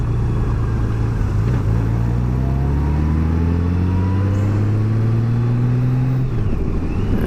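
A 2018 Honda Gold Wing motorcycle cruising on the road, a loud steady engine drone with gradually rising pitch as it accelerates through gears, plus wind rush.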